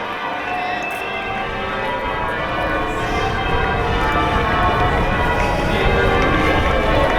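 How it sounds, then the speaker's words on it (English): Sheffield cathedral bells peal continuously for a wedding in a dense, ringing wash, with a steady outdoor city-centre background and a faint voice or two underneath. "you can hear the bells going"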